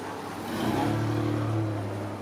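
A car engine rises and passes slowly along a narrow street in Mazatlan's old town centre, a steady mid-level rumble swelling and holding through the moment amid outdoor ambience.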